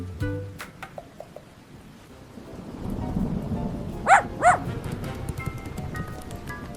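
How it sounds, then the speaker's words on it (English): Two sharp barks from a dog close by, coming in quick succession over a quiet background with faint rustling. "Why is Buddy barking?"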